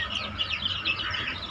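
Tree-roosting chickens cluck and chirp softly outdoors, a brief run of faint, fluttering bird calls over a quiet background.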